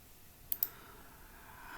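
Two quick, crisp mouse clicks close together, faint and isolated against a quiet background hiss while working in a Java shell on a computer.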